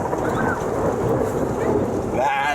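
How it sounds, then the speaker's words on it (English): Steady rain patters during a thunderstorm while low thunder rolls underneath, fairly loud and continuous with no clear single crack. "That's a thunder crack."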